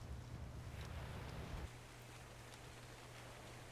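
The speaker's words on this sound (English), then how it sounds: "Now it's raining, and it does not seem that rain affects an egg" Steady rain falling in ARK: Survival Evolved, a broad continuous wash with a low rumble that drops away partway through, leaving a softer, even hiss.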